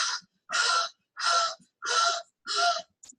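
A person imitates Kussmaul respirations, the rapid, deep breathing seen in diabetics, with five loud, harsh rushes of breath in a steady rhythm and a short gasp at the end.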